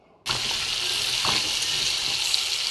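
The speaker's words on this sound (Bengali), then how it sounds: "টুকরো করে আলু কাটা ডুমো ডুমো করে কেটে খুব ভালো করে ভেজে নেবো।" Diced potatoes hit hot oil with spices in a pan, bursting from silence into a loud, dense, continuous hissing sizzle that holds steady up close with no voices.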